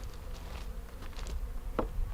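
Honey bees buzz during a hive installation, a dense, close, continuous hum from many insects with soft bumps and patters, heard alone without talk.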